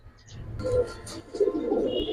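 Low, rolling coos of Silver Beji pigeons come in two soft bursts, close by and undisturbed by speech.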